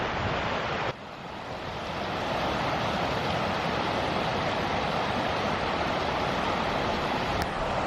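Glenmacnass Waterfall in the Wicklow Mountains roars as a steady, dense rush of falling water, constant and fairly close, with a brief dip in level near the start.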